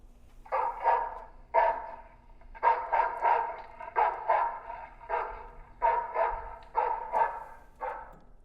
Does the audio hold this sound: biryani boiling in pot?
no